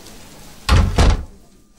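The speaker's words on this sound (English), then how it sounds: "Close the door on your way out" A door in a radio drama shuts with two quick heavy thuds, the second following a fraction of a second after the first, close and clear against quiet room tone.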